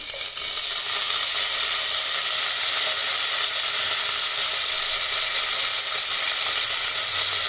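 Mint leaves hitting hot oil in a pan for mutton curry, a loud, dense, continuous sizzle close by that holds steady throughout, with no talk.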